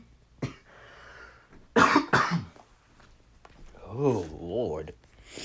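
A sharp cough followed by a couple of harsher coughs nearby, then a person speaks briefly in a quiet room.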